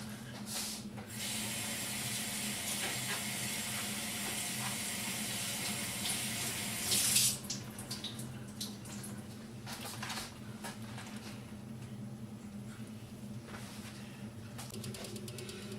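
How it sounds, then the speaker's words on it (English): Running tap water pours steadily over cabbage being washed in a sink for kimchi, a continuous broad splashing hiss with one brief louder burst midway, then slightly softer flow with small clatters. "Now we're gonna wash the cabbage in case there's any dirt or sand or something"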